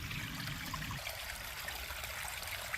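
A small stream of water trickles past icicles outdoors on a cold morning on a mountain trail, a steady, soft, continuous babble heard alone with no voices.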